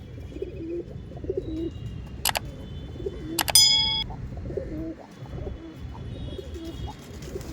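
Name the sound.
Giribaj pigeons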